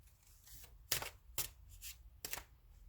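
A tarot deck is shuffled close by in quiet surroundings, giving three or four short, crisp bursts of card riffling with soft handling between them.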